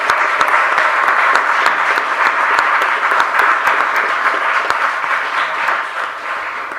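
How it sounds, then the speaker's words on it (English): A live audience at a games talk event applauds its sponsors, Johnston Carmichael and Glasgow City Council, in a dense, steady roar of clapping that holds for several seconds before easing off slightly at the end. "Please give them a round of applause."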